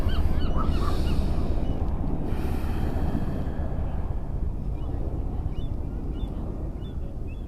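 Seagulls calling at a beach, thin cries scattered through the scene, with the earlier ones clearer and the later ones fainter, over steady wind and surf noise.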